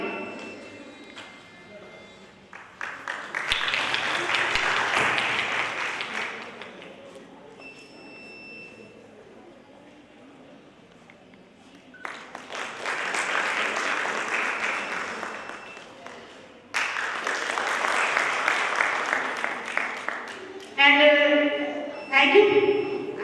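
Audience clapping at a college annual function in three separate bursts of applause with quieter gaps, moderately distant, with talk between them.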